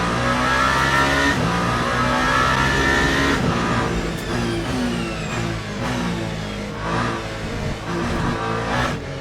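A hypercar in the racing game Le Mans Ultimate, during the 24 Hours of Le Mans, pulls out of the pits, its engine droning and revving loudly and steadily with rising pitch sweeps throughout, and no talk over it.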